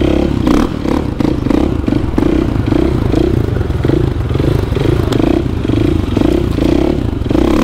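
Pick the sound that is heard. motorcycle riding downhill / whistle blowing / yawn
motorcycle riding downhill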